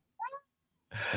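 A cat gives one short, clear meow up close, followed by a brief quiet gap and then a loud burst of breathy, rustling noise.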